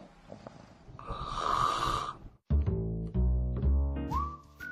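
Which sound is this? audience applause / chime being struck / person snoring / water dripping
person snoring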